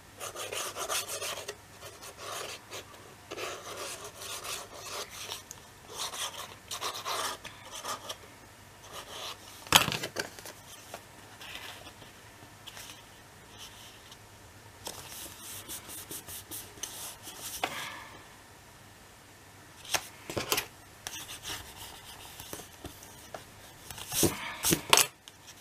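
Soft rubbing and scraping as a paper pocket is glued and pressed onto a Christmas scrapbook album, with quiet irregular strokes and brief taps close to the microphone.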